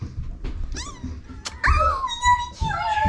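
Newborn German Shepherd puppy, just delivered during a first-time birth, giving several short high squeaks and mewing cries close by, amid handling noise and a low gurgle.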